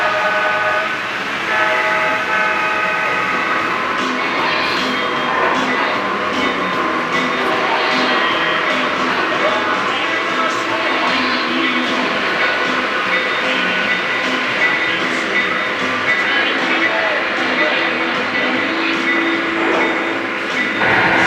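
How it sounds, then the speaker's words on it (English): A model train rolls across a bridge on a club layout, its wheels clattering steadily and loud for the whole stretch, with a continuous rumble and faint horn-like tones now and then. "As the rest of the train goes through."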